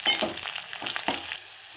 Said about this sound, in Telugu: ఇప్పుడు పసుపు వేసుకొని ఇది కూడా ఫ్రై కానిద్దాం